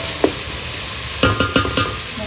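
Onion and whole spices frying as a tempering for biryani, a steady sizzle under a few sharp scrapes and taps of a spoon stirring in the pan, close and fairly loud with no talking.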